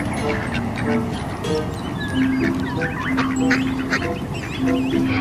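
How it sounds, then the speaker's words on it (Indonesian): White ducks honk and quack repeatedly close by, several birds calling over one another with a busy background. "ternyata ini hewan bebek."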